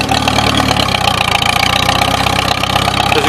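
A 1953 Farmall Super H tractor engine runs at a steady, loud idle with an even low chugging pulse throughout, close up and with no talking.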